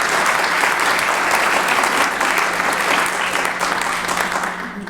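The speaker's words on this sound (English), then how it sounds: "let's give Jesse a round of applause" An audience at a live event gives a round of applause for Jesse, a loud, close, sustained burst of clapping that stays dense throughout and eases slightly at the end.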